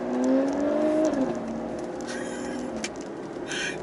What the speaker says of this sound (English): It's just wheel spin